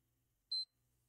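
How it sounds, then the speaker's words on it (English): A single short, clear electronic beep from a PS4 kernel exploit test, sounding once close by over near silence. "Let's get some beeps going."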